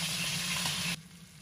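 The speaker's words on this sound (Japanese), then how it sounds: "油が十分熱してきたので肉を入れたいと思います。" Meat sizzling in hot oil for Uyghur polo, a steady broadband hiss that cuts off sharply after about a second to a much quieter background.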